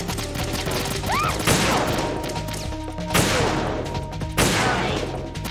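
Sniper rifle shots crack in a video game, loud and sharp, three or four heavy blasts spaced a second or so apart over a dense backdrop of game noise and mechanical clatter.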